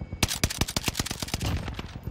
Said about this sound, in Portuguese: Nossa, tá um tiro.